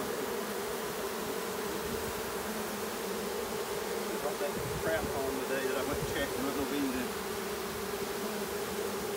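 A honey bee swarm hums as a steady, low drone of many wings on a homestead, continuous and fairly faint, with a person talking casually over it partway through.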